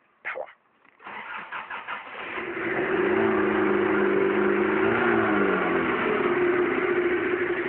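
A Diesel Gemmi's diesel engine cranks with a few stuttering bursts, then catches and settles into a loud, steady, rumbling idle that holds close and continuous to the end.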